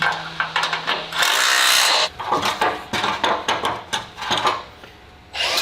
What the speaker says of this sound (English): Now, I'm gonna grind this up so we can get this ready for TIG weld